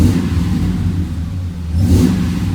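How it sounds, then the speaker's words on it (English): Ford F-150 with a 5.4 V8 engine running steadily, then swelling into a brief rev on throttle tip-in near the end; close, loud and continuous with no talking. "let's see what happens when I do a throttle tip-in"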